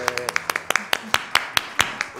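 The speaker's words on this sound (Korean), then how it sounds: "박수로 한번 환영합니다" A church congregation at a Korean Sunday worship service claps to welcome newcomers, with loud, even, rhythmic claps at a brisk steady pace and a faint voice or singing at the very start.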